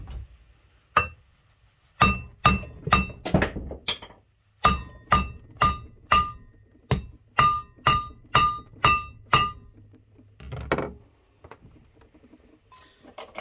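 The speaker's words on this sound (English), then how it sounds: "Kind of awkward hammering like that" Sharp metallic hammer strikes driving wheel studs into a Mopar 8 3/4 axle part clamped in a vise, about twenty in quick rhythmic bursts with short pauses, ringing brightly up close, then tapering to silence.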